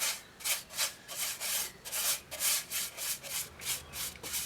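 Cloth rubbing tung oil onto a punky poplar turned wooden bowl, a brisk series of about a dozen rhythmic swishing strokes, close and moderately quiet with no talking.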